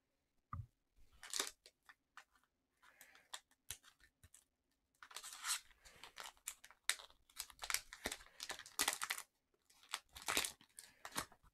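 A pack of plastic card sleeves is torn open and handled, giving quiet crinkling, rustling and tearing in irregular bursts close to the mic, with a sharp click near the start.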